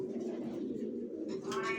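Young racer pigeon squabs, a pair of big-sized racers from the same loft, give a low, droning coo that holds steady, with a brief brighter chirping sound near the end.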